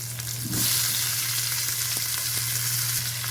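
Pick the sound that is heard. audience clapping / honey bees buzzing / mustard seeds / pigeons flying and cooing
mustard seeds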